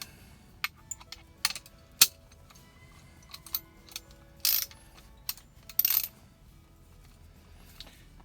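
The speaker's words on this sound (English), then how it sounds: "I use one of these Harbor Freight ratcheting breaker bars, which comes in pretty handy." A Harbor Freight ratcheting breaker bar used while repairing the ignition switch of a 1968-70 Volkswagen Beetle, giving sparse, sharp ratchet clicks and short rattling bursts close by against a quiet background.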